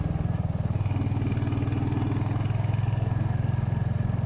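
A Triumph Trident/Rocket-style Hurricane motorcycle rides along an open road, its engine a steady, loud, close pulsing drone with a smooth gear change blending into the continuous throb, without any talking.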